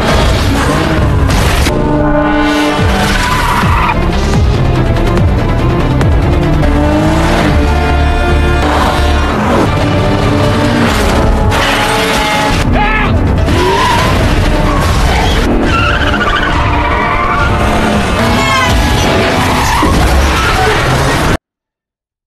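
A film car chase scene: a car revs and speeds off with tire squeal, then crashes with booms and impacts, loud throughout amid dramatic music and effects.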